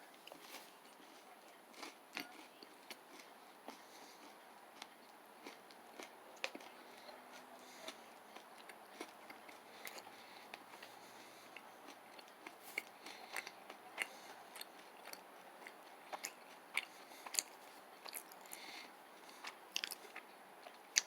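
Someone chews a Nature Valley peanut butter dark chocolate protein granola bar close up, with soft, quiet, irregular crunches and bites repeating throughout in an otherwise silent room.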